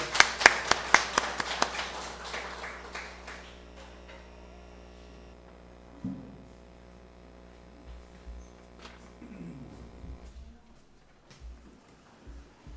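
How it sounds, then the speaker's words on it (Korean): A church congregation at Sunday worship claps in a quick burst of applause at the start that fades within a couple of seconds, leaving a steady electrical hum with scattered taps and faint shuffling afterward. "우리 왕 되신 주님께 영광의 박수 올려드립니다."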